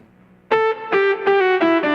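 After a brief near-silent pause, a Boss SY-1 guitar synthesizer lead patch with a little reverb sounds a loud phrase of rich, sustained notes that step in pitch, each tail blurring slightly into the next.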